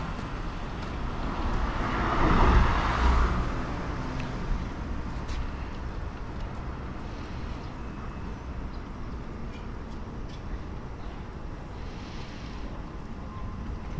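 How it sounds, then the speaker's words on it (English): Cars passing in Tokyo city traffic, recorded while cycling, a steady road roar with one vehicle swelling close by early on, then a continuous moderate rumble. "There are a lot of cars coming into this."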